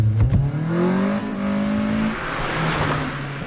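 A car engine revs loudly in a drifting scene from a music video, the pitch climbing sharply and then fading as the car passes, with a brief tire screech.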